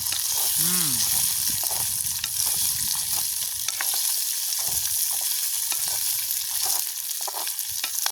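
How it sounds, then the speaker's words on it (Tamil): Whole onions sauté in a pan during village-style cooking, producing a loud, continuous sizzle with occasional stirring scrapes close by. "நல்லா பிண்டி விடுவோம் நல்லா வதங்கட்டு முழு வெங்காயம் நல்லா வதங்க"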